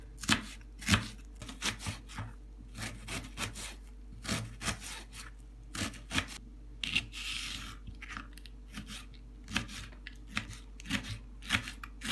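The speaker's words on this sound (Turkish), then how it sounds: "Soğanımızı da ikiye bölüp küp küp şeklinde doğrayalım" A knife dices an onion repeatedly on a cutting board, with irregular quick taps and short bursts, close up and steady, no talking.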